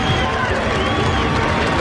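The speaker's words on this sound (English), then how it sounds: "listen to the huge applause that Michael gets as he gets out and wave to the crowd" A large grandstand crowd at the Daytona 500 roars with applause and cheering after a crash, with a continuous dense wash of noise and a commentator talking over it.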